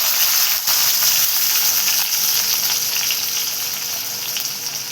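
Garlic and tomatoes sizzle loudly in a hot oiled pan after cumin, cooking for a green bean stir-fry with coconut; a bright crackling hiss that stays close and gradually softens, with no talking.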